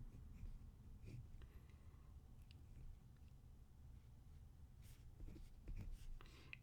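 Writing on a board during a linear algebra lecture, faint soft scratchy marker or chalk strokes in short bursts over a quiet room hum, distant and low with no voices.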